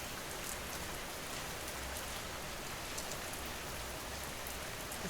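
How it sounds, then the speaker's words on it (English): Steady rain falling in a suburb at night, a dense even hiss of drops on surfaces, constant and soft with no other sounds. "The steady sound of rain is a form of pink noise"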